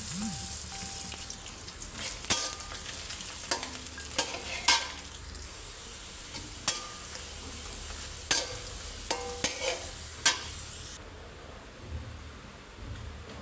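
Leafy greens frying in a little mustard oil, a steady soft sizzle broken by sharp clicks and scrapes of stirring, moderately close.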